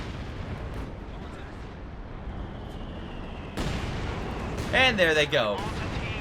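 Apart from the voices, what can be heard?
mortar and artillery fire in the video game Company of Heroes 2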